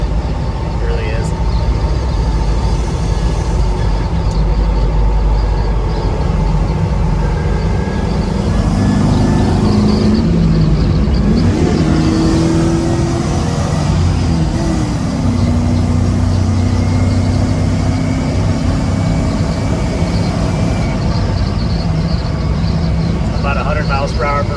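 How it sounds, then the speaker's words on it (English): A heavy diesel engine in a 1991 Toyota Land Cruiser HZJ75 drones continuously from inside the moving truck at high speed, with a low rumble and road noise, and people talking over it. "it's just a smooth driving, nice running truck."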